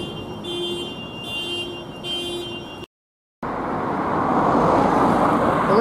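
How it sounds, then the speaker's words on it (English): A car alarm goes off on a town street in Newton Stewart, Scotland, a repeating siren pattern in three even pulses, then a brief silence and a steady wash of roadway traffic noise. "And somebody's alarms are going off."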